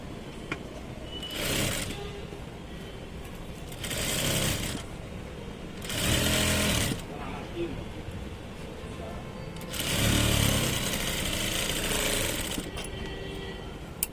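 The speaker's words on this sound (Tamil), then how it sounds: "இது கரெக்டாக அப்படி வச்சுட்டு இதுக்கு மேலே ஒரு தையல் போட்டுருங்க." A sewing machine stitches folded blouse fabric in four separate runs, each a second or so of loud, rapid needle chatter, with quieter room noise between the runs.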